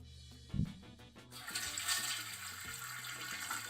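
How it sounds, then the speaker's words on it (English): A toilet flushing, played back through a phone speaker: a few soft clicks and a brief thump, then a sustained rushing, gurgling flush of water that continues steadily to the end, with no talk. "I have a video of my toilet flushing on my phone"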